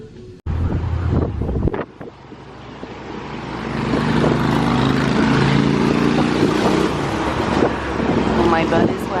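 An open-top double-decker tour bus drives along with a low engine rumble, heavy wind buffeting the microphone and a few bumps and clunks near the start.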